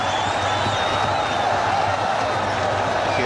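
A cricket crowd in a stadium roars steadily after a boundary off a short, wide ball. The sound is a broad, distant wash of cheering with no break.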